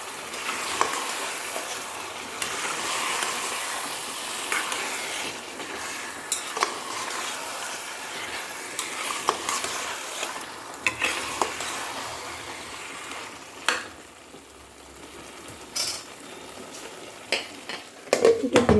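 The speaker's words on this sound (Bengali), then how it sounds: "এই সময় আমরা মাটনটা এখানে দিয়ে দেবো, এটাকে মশলার সাথে ভালো করে কষাবো।" Mutton frying with spice paste in a pan for a Bengali potato mutton curry, a soft steady sizzle under frequent scraping stirs and light utensil clinks, nearby and without speech.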